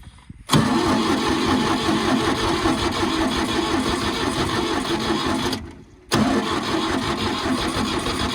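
A cold farm tractor engine cranks and catches, then runs loud and steady. It cuts out briefly and restarts, running on strongly up close.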